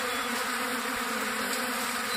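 A crowd of feeding mason bees crawls over a hand, their close, continuous buzz filling the air steadily without pause.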